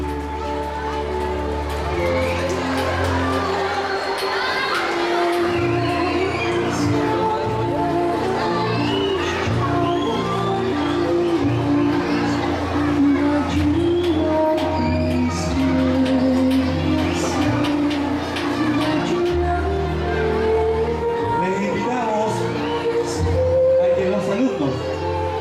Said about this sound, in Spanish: muy fuerte ese aplauso para estos 10 semifinalistas